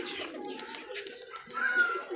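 Pigeons cooing softly and fluttering nearby, a steady low murmur of birds with a brighter call rising toward the end.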